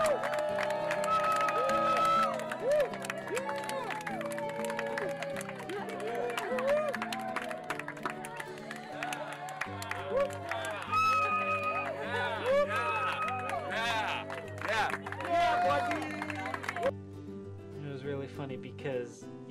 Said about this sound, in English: we're going to show them coming out through the tunnel while we cheer for them